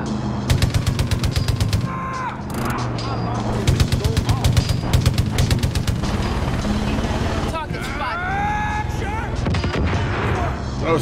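Rapid bursts of Far Cry 5 gunfire crackle in tight volleys during gameplay, with repeated sharp shots over a busy, loud mix of game effects, while people talk throughout.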